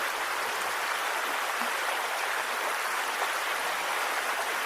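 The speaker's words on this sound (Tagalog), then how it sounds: "Lakas ng ulan." Heavy rain pours steadily outdoors, a dense, even hiss with no breaks and no voices.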